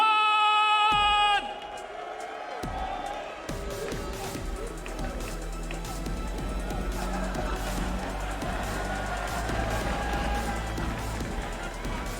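A sold-out esports arena crowd at the Six Charlotte Major quarter-finals roars and cheers in a loud, sustained wash of noise that follows a short burst of music.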